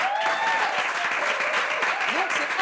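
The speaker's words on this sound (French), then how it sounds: "On peut applaudir." An audience claps steadily for a contestant in a Bible quiz show, a dense even burst of applause from a crowd filling the room throughout.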